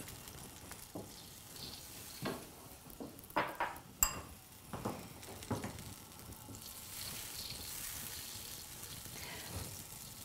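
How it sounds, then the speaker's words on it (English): Tofu curry simmers faintly in a pot while a utensil stirs it gently, giving a few soft scrapes and light knocks against the pot over a quiet background sizzle, with no talking. "Gently stir this."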